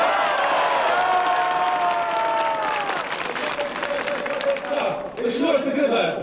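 A crowd at a session of Latvia's Supreme Council bursts into dense, sustained applause and cheering that fills the whole stretch, with a tonal voice ringing out near the start.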